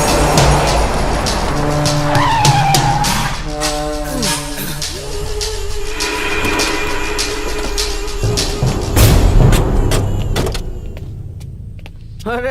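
A car in a Bhojpuri movie scene pulls away with a loud, close engine roar and sharp tire squeals and skids that rise and fall over about twelve seconds.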